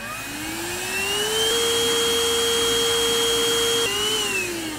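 A small vacuum cleaner, a MOOSOO U1400-PLUS 1400W pet upright vacuum, whines steadily with a high motor tone that rises as it spins up, holds, then dips briefly and settles again.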